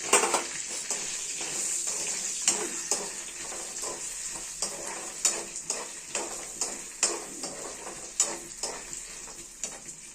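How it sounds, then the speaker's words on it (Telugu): A tempering of dried red chillies, mustard seeds, cumin, urad dal and garlic frying in hot oil for coriander chutney, a loud continuous sizzle with many crackling pops and rhythmic stirring scrapes throughout. "ఎండుమిరగాయలు తాలింపు సామాను ఫ్రై చేసాం కదా"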